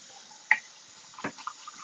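Water splashes into a cat's water dishes in two brief, faint bursts, a short drip-like splash and then a fuller pour, in a quiet room.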